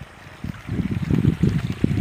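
A creek on a small rural property of about three hectares runs with a low, steady burble of water that swells into a closer, louder gurgle after the first half second.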